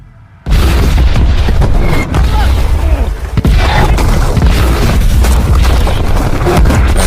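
Dense, continuous booming of tank cannon fire and explosions in a World War II tank battle scene, heavy low rumble with repeated bursts and crashes layered under ongoing noise for several seconds.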